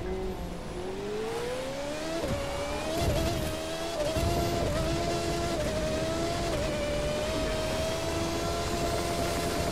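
The Alpha Mark 2 race car in The Crew 2 drones at a steady high pitch as it races, its engine note rising, dipping briefly between gear changes and climbing again, loud and continuous with no talk.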